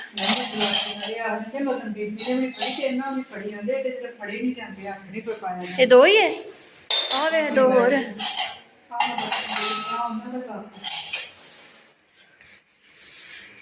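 Ceramic cups with handles and other kitchen dishes clink and knock as they are sorted and put away in a home, in scattered close rattles under ongoing conversation.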